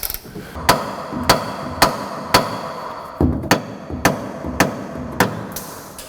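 Steady brass hammer strikes ring out at a regular pace, about ten sharp metallic blows with brief ringing between each.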